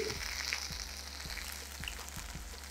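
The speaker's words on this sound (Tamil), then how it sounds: "கரெக்டாக ஒரு 30 செகண்ட்ஸ் இதை ஃப்ரை பண்ணிக்கோங்க" Steady, close sizzle of spices, curry leaves, chopped ginger and black pepper frying in hot oil for Ven Pongal, with a constant low hum underneath and a few soft clicks.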